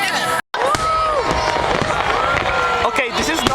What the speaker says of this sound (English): this is not the real fireworks, are the fireworks for the kids